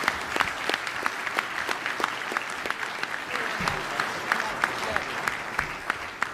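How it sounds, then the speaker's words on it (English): A symposium audience applauds the panel, fairly faint and a little distant, with sharp individual claps standing out steadily throughout. "Round of applause for the panel here."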